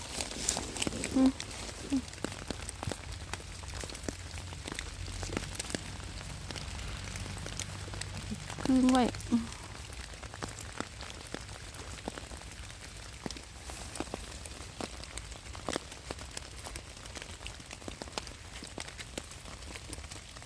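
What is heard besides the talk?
rain falling in a German forest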